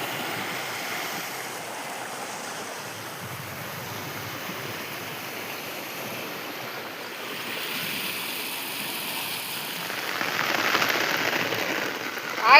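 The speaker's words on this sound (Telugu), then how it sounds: "భారీ వర్షం పడుతుంది అసలు." Heavy rain pouring down on a flooded village, a dense, steady wash of falling water that swells louder toward the end, with no voices.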